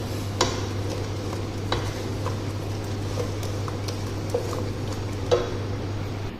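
Taro curry with tomato puree sizzles softly in a pan under steady low frying noise, while a spoon stirs it with occasional light scrapes and taps against the metal.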